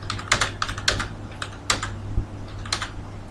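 A student's name and marks are typed on a computer keyboard, heard as close, crisp key clicks in short irregular bursts with brief pauses between them.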